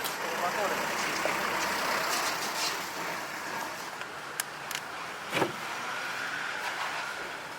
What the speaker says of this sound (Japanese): 車通るので静かに。